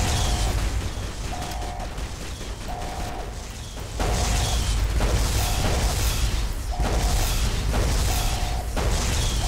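Cannon fire in Fallout: New Vegas, heavy booming blasts with mechanical clanks repeating at a steady rhythm every second or so over constant loud game noise, with no talk.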